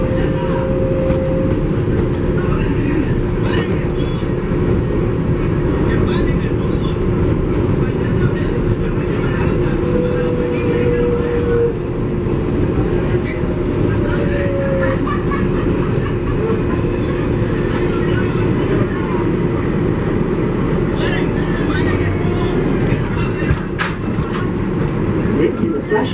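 An MTA 7 local subway train bound for Flushing Main Street rumbles steadily along the track, its loud, continuous roar and wheel clatter filling the car, with a faint whining tone above and an announcement voice at times.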